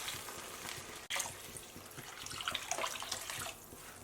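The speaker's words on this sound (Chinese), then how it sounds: "再根据家人的饭量添加适量的清水" Water pouring into a soup pot of fried tomato, shiitake mushrooms and wood ear fungus, a steady close splashing rush after a brief cut, then a sizzling trickle that tapers off.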